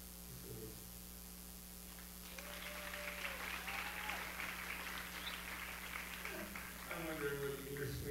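Applause from a school audience at a writers' week poetry reading starts after about two seconds of quiet hum and holds steady and moderately loud to the end, over constant mains hum.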